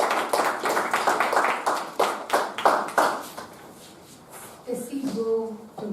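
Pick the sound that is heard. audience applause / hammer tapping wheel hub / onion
audience applause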